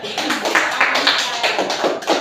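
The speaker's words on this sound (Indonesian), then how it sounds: "Oke, tepuk tangan buat dia." Children applauding in a classroom, a dense run of quick overlapping claps lasting a couple of seconds, close and loud.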